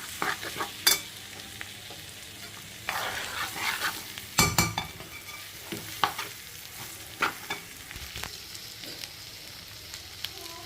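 Small onions fry in oil for a mixed chicken, mutton and prawn biryani, giving a steady soft sizzle broken by close, repeated scrapes and clinks of a stirring spoon against the pan.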